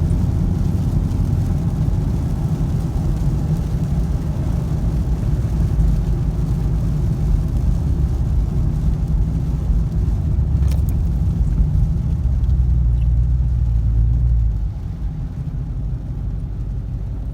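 A 2019 Dodge Challenger 392 with a brand-new transmission drives on a test run, its V8 engine and exhaust giving a steady, loud, deep rumble throughout that eases slightly near the end as it settles toward idle.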